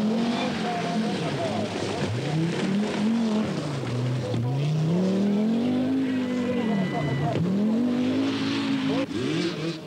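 Rally cars in the 1982 Lombard RAC Rally climb Harewood Hill, their engines revving hard, rising and falling through gear changes as each car passes close by, with loud, continuous roaring throughout.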